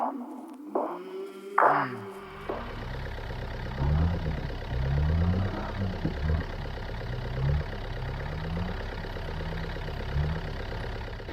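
Engine of a manual Toyota Hilux idling and labouring at low revs off-road in a rainforest rut near Coffs Harbour, stalling against a tree root, with a steady low rumble and a few knocks and clunks early on.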